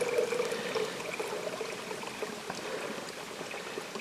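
Water trickles and pours steadily through a Katadyn filter into a Hydropack bladder outdoors, a soft continuous liquid stream at close range with no talking.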